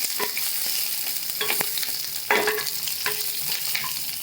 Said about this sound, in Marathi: जिरे टाकून घेते जिरे टाकल्यानंतर हिरव्या मिरच्या टाकते आणि लसूण टाकते आणि चांगलं परतून घेते